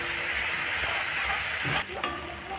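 Spices with turmeric fry and get stirred in a pan, a dense close sizzle with scraping, then a brief pause and softer sizzling continuing.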